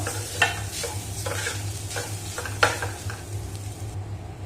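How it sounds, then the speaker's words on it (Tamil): Grated coconut roasting over a medium flame in a pan, with a soft steady sizzle and a few sharp scrapes of stirring rising above it. "இப்போ மீடியம் ஃப்ளேமில் வச்சுட்டு நம்ம வறுத்தாச்சு"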